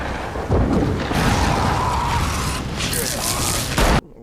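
Gunfire in The Last of Us, a dense fusillade of shots and booms under a raised voice talking, loud and continuous before cutting off abruptly.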